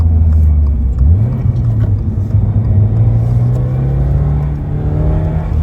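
Subaru BRZ tS heard from inside during a heel-toe downshift into a turn, the engine blipping up sharply once then holding a steady rising drone.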